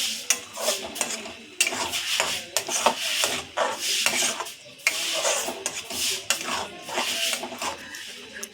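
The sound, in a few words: stirring sambar dal with tomato paste in pot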